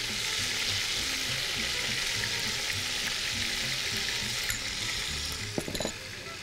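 Ground ginger and garlic paste fries in meat stock (yakhni) for a mutton pulao, giving a steady close sizzle with faint stirring clinks near the end.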